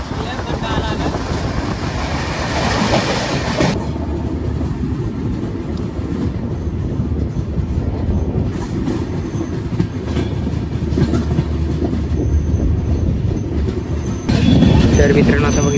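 Indrayani Express (22105) train running near Lonavala and Khandala, a steady loud rumble of wheels and carriage noise with rhythmic clatter throughout, heard from on board, with a brief louder burst near the end.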